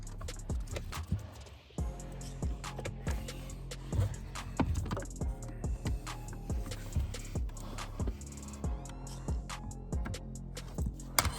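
Plastic clips on a BMW E90 footwell module are clicked and pushed by hand, giving repeated sharp plastic clicks and knocks in an irregular rhythm, close and fairly loud, with no speech.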